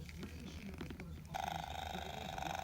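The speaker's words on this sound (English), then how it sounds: "I got you a little purr toy." A low, steady electronic purring hum from a purring cat toy switches on partway through, continuing evenly at close range after a stretch of faint rustling.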